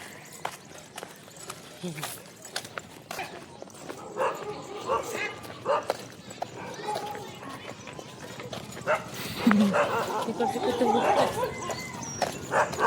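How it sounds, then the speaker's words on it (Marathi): Several dogs bark and yelp sharply in bursts at middle distance, scuffling with each other, while people talk nearby throughout. "त्यांच्यात वाद चालू कुत्र्यांमध्ये।"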